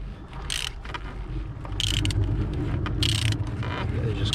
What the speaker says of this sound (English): you can also undo your oil filter cap with a 27mm head